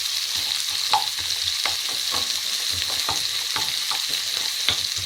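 Chopped onions fry in a pan over low to medium heat, giving a constant soft sizzle with light, irregular scrapes and clicks of stirring, close and moderately loud, with no talking.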